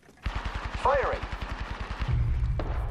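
Rapid automatic gunfire from Apex Legends, a steady stream of evenly spaced shots that runs almost throughout, with game voice chatter mixed in and heavier thumps near the end.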